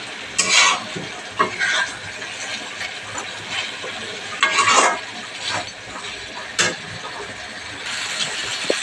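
Chicken being stirred and browned (kosha) in a pan with a little water, a steady sizzle under repeated scraping strokes of a spatula against the pan, some louder than others.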